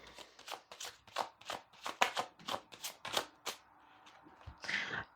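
Tarot cards are shuffled in quick, rhythmic riffling bursts, close and quiet, with a soft rustle at the end.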